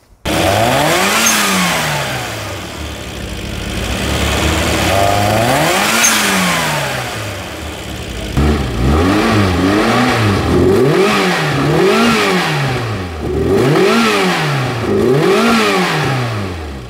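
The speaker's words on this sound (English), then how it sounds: "You're going to hear the difference between the twin cam 16 valve and the turbo." Two Mini engines, a twin cam 16 valve and a turbo, rev loudly one after the other in repeated rising and falling blips, the second sounding quicker and busier, with no one talking.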